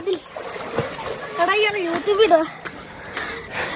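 Boys jump into the shallow water of a temple pond in Thodupuzha, Kerala, sending up a few brief splashes and slops, close by, while someone talks over them throughout.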